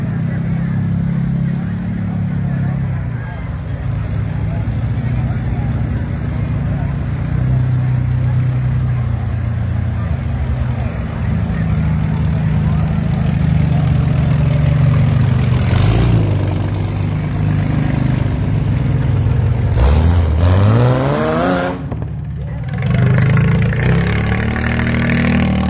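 A truck engine idles in the pits at the Lodi Agricultural Fair. A steady, close, low rumble holds throughout, and near the end the engine revs up in one rising swell before settling again.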